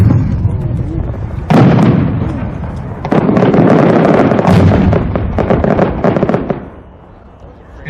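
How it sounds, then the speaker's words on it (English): Large fireworks shells burst overhead in rapid crackling volleys, a loud thump opening a dense barrage of booms and sizzling breaks that die away at the end, with a crowd talking. "It's like the whole fireworks store in one."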